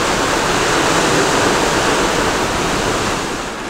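Ocean surf and strong currents around the islands off French Guiana, a loud, continuous broadband wash of waves that eases slightly toward the end, with no voices.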